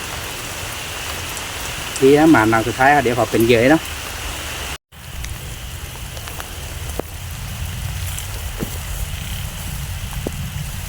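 Steady rain pours through the night at an outdoor fishing spot in Thailand, a constant hiss beneath a voice speaking briefly near the start, with a few scattered drops and knocks afterward.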